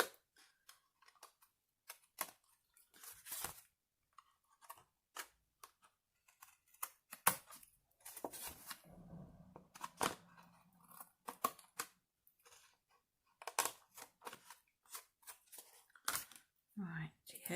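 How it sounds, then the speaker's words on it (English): Scissors snipping paper while trimming an art journal page: irregular sharp cuts and clicks, some in quick bursts, fairly close and quiet, with brief rustling between them. "we'll trim off those bits that we don't want. Should really use my non-stick scissors."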